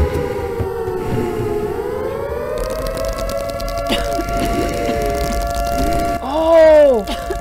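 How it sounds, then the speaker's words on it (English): An air raid siren wails in a video game, its pitch sweeping up and then holding a long steady tone, with a few brief vocal sounds over it near the end. "Why is the air raid siren going off?"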